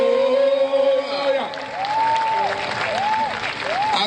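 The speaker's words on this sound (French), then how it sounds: "Je veux que quelqu'un acclame le Seigneur encore très fort." A congregation at an evening crusade in Cotonou applauds and acclaims loudly, sustained clapping and cheering with a preacher's voice rising over the crowd.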